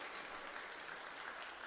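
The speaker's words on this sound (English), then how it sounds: "A nice round of applause from the crowd as they" Crowd applause at an under-20 national championship basketball quarter-final between Western Australia and Tasmania, a steady unbroken wash of clapping that holds at an even, moderate level throughout.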